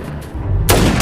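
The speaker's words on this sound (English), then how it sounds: "Fowler got up and immediately shot him" A single gunshot fired at close range in a tense police confrontation rings out sharply and loudly after a second of low rumbling ambience, leaving a decaying boom behind it.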